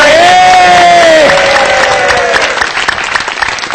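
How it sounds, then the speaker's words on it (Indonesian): Audience applause and cheering at a business marketing seminar, loud and sustained over nearly four seconds, with a shouting voice at the start that fades into dense clapping. "Tepuk tangan dulu dong, kasih suara."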